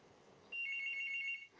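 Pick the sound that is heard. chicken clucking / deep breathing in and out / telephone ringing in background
telephone ringing in background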